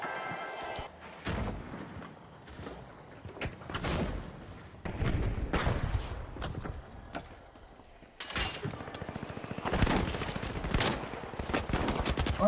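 Gunfight in the video game The Finals with a grenade explosion, bursts of rapid gunfire and heavy thumping blasts, loud and close, repeating in clusters over several seconds.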